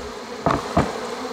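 Honeybees buzz around an opened horizontal hive during an inspection and mite check, a low drone with two sharp, loud buzzes as bees fly close past.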